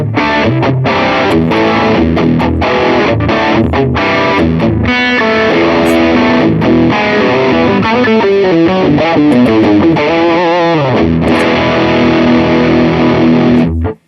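Distorted electric guitar played through a Vox AC30 amp plugin on its green distortion setting, a loud, continuous run of chords and riffs with no talking.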